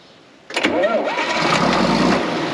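A John Deere 4430 tractor's diesel engine that sat unused for 22 years cranks and catches, quickly building to a steady, loud, close rumbling run.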